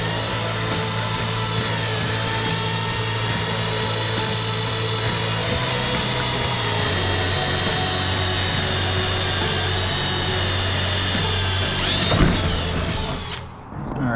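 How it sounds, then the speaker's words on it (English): A power drill bores steadily into an aircraft wing spar cap during a Bearhawk left-wing mock-up, with a continuous loud whine that shifts pitch a few times before cutting off abruptly near the end, no talking. "So I'm going to drill that."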